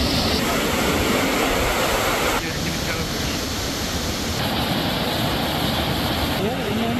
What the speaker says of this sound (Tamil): ஆனா இப்ப பின்னாடியே பாத்தீங்கன்னா சில்வர் காஸ்கேடு வாட்டர் ஃபால்ல இவ்வளவு தண்ணி இருக்கு